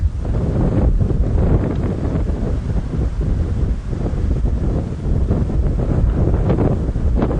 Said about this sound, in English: You can see it's very windy this morning.